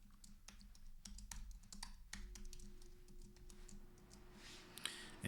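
A password is typed on a computer keyboard, producing a quiet run of close, irregular key clicks without any talk.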